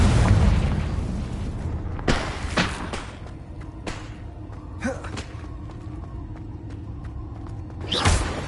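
Confringo spell explosions in a Hogwarts-themed video game: a loud booming blast at the start, then several sharp bursts and thuds spaced a second or two apart, each with a brief whooshing tail, ending on another heavy boom.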